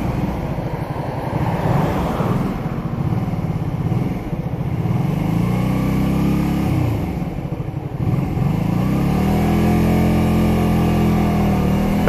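A Honda Shadow 125 motorcycle with a poorly tuned carburettor runs on a winding road, its engine droning loud and close under heavy wind rush, rising and falling in pitch as it accelerates and shifts, with no talking.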